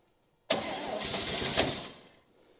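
Stuck 1966 Chevy Bel Air engine, revived after sitting for years, catching abruptly after a silent start, then roaring loud and rough for about a second and a half before cutting back down.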